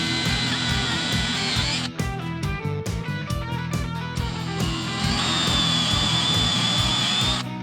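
Power drill boring holes for bridge mounting posts in a custom Telecaster guitar body, a close, continuous whining drone that breaks briefly near the start and then resumes to the end.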